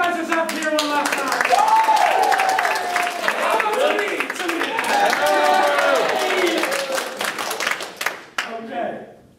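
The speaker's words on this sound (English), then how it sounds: "Give yourself a round of applause." Audience applause and clapping at the close of an improv comedy show, a sustained dense round of hands from the crowd with cheering over a steady wash of voices, fading out near the end.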